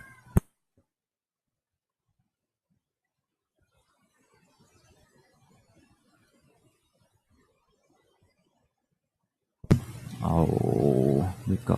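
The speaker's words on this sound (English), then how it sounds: "we've got a cat that needs attention" A pet cat named Pudding lets out a long, loud meow near the end, after a quiet stretch with faint rustling and one sharp click at the start.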